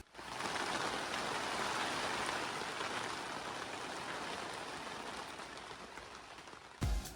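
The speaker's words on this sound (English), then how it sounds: "the rain has come back" Rain patters on a greenhouse roof in a steady, soft, continuous hiss heard from inside, with a single brief thump near the end.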